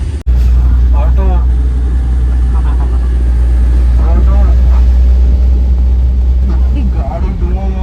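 An auto rickshaw engine on the road in Goa gives a steady, loud low drone that runs throughout, with people talking over it.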